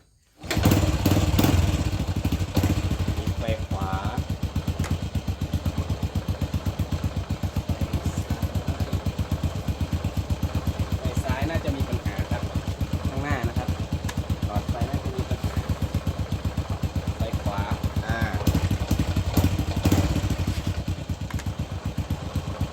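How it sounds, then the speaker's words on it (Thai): Motorcycle with a faulty, sticking turn-signal switch starts up and settles into a steady, loud idle close by, its rapid single-cylinder chug continuing throughout with brief voices over it. "เดี๋ยวลองสตาร์ทรถดูก่อนครับ"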